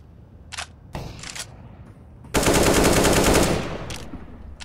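Gunfire in the video game CS:GO, with a few separate sharp shots early on, then a loud sustained burst of automatic fire that fades into scattered final shots.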